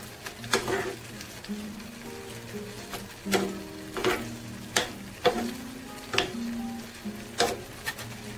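A spoon scrapes and taps around a pot in a loose rhythm of clinks and stirs, with a soft sizzle of simmering chicken tikka masala sauce with cream underneath.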